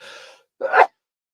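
A single sharp sneeze, preceded by a brief breathy inhale, then silence.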